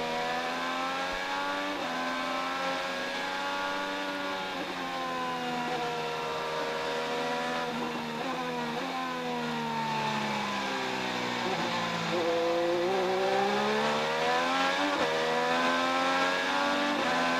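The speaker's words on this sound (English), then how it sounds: "So much fun to ride along with Will Power in second, trying to track down Ryan Hunter-Reay." Onboard view from an IndyCar race car at Mid-Ohio during the 2013 Honda Indy 200, Honda engine screaming at high revs throughout, pitch climbing and dropping through shifts and corners, loud and close with no talk.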